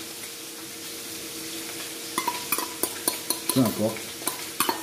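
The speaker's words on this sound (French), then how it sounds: "pendant que mes côtes de porc sont en train de colorer" Pork chops browning in a frying pan, a steady low sizzle beneath repeated sharp scraping and stirring clicks of a utensil against the pan, with a brief spoken phrase partway through.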